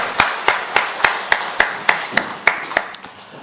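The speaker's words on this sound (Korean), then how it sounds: "하나님께 영광의 박수를 부르겠습니다" A church congregation claps in unison during a worship service, about a dozen sharp, evenly spaced claps at a steady rhythm, loud and close with no talk over them.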